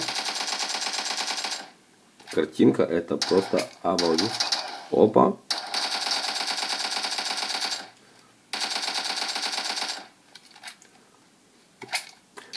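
Rapid bursts of automatic gunfire in a shooter video game played on a Lenovo Z5 Pro GT phone rattle in long, steady streams with short pauses, while someone talks briefly between volleys.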